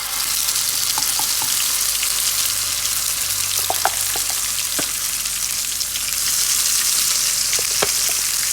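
Ground soya paste frying in coconut oil for a pepper fry, a steady, fairly loud sizzle with occasional faint clicks and light stirring noises, close up.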